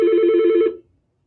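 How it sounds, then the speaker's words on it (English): A telephone rings once, a close, loud electronic bell-like trill lasting under a second before cutting off to silence. "We have a phone call to start off the lecture."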